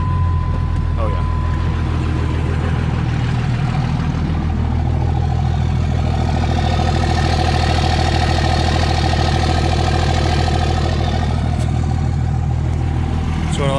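A forestry mulcher's engine, just started, settles into a steady low idle that rumbles loud and close throughout, with a continuous deep drone and a slight rise in mid-range roar partway through.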